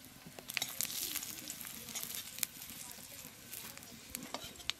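Cumin seeds sizzling and crackling in hot cooking oil in a home kitchen, a steady close hiss dotted with sharp pops and a few stirring clinks, with no talk.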